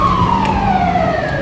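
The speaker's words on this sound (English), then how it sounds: "Fire truck." A fire truck siren wails loudly and close by, a sustained tone sliding slowly downward over a constant rumble of traffic, with no voices.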